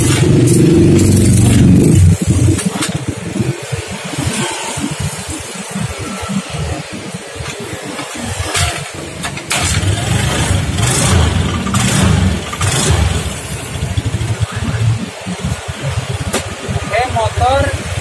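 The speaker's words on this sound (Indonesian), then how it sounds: "Coba kita hidupkan lagi motornya ya." Honda Beat scooter engine started up and revved, a rough, sputtering motor that hesitates under throttle, running loud and continuous close by with people talking over it.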